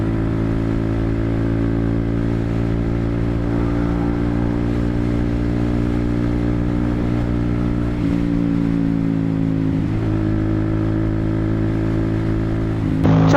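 A vehicle exhaust drones loudly at a steady idle, with a strong low rumble that shifts pitch slightly as the engine revs around the middle, continuous and close with no talk.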